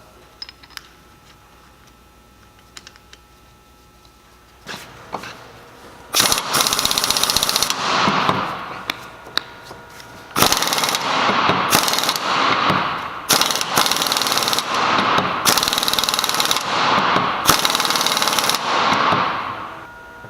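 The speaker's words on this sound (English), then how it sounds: "Basically, we're going to keep hitting it with the impact and checking for end flow until we're at 0 lash." A pneumatic impact wrench hammers the yoke pinion nut onto a Salisbury differential with a Dana 44 carrier, firing in loud repeated bursts of a second or two each, separated by short pauses, with light clinks of parts beforehand.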